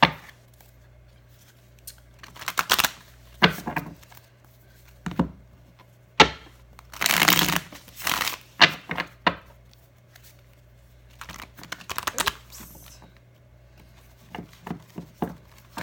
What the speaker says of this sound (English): let me just shuffle the cards for each zodiac sign